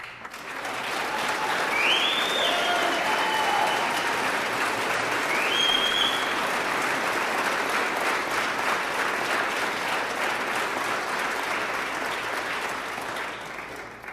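Sustained audience applause on a San Antonio morning TV broadcast, dense and steady throughout with a few faint whistle-like tones riding over it, tapering slightly at the end.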